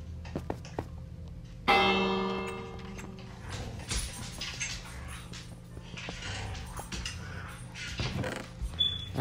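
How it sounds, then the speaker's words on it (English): A bell ringing in the video game Minecraft on mobile, a bright metallic strike rich in overtones ringing out, followed by a busy mix of clicks, ticks and game sounds continuing at moderate level. "I'm gonna put this bell in here."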